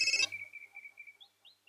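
A telephone tone sounds during a call in the Hindi action film Ittefaq: a short noisy burst, then a steady electronic tone followed by a few short rising beeps, fairly quiet and alone.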